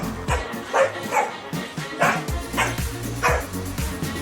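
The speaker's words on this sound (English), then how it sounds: "Ever heard a dog perfectly articulate their bark?" A dog barks in a lively, repeated series of sharp woofs with short gaps between them, loud and close, with faint background noise.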